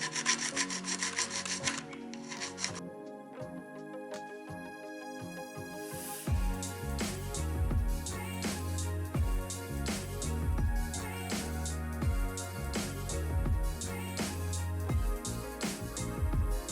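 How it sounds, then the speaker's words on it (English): Dremel rotary tool with a stone bit grinding burrs off a car wheel, a high whine at first, then rhythmic scraping strokes with a steady buzzing tone underneath, close and fairly loud, no talking. "I'm using this basic stone that came with the Dremel to get rid of all the burrs"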